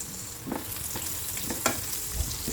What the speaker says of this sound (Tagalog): una, magigisa tayo ng ating sibuyas.